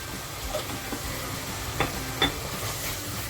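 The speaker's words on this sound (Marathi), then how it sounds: "आपला मसाला हलकासा फ्राय होत आला आहे" Homemade masala lightly frying in a pan for stuffed crab curry, a soft continuous sizzle with a few sharp stirring scrapes and clinks breaking through near the middle and end.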